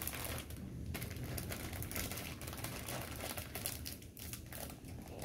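Crinkly plastic packaging around a Pokémon bread sticker being pulled and torn open close up, a continuous rustling and scratching with a few sharper tears and crackles, no talking.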